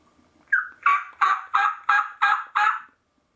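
A series of about seven sharp, rhythmic yelping turkey calls, made by a mouth call and imitating a hen, loud and close, then silence.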